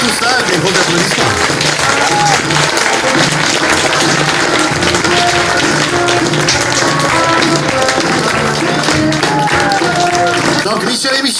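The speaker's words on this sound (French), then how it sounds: "Et surtout ça, des gros applaudissements." Cabaret audience giving big applause, loud sustained clapping throughout with voices and music tones running beneath it.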